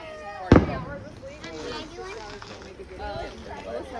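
Firework set off outdoors at a family gathering, a single sharp loud bang near the start followed by crackle, then voices chatting and murmuring over background noise.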